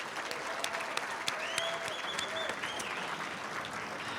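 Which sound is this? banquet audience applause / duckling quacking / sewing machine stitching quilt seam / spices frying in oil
banquet audience applause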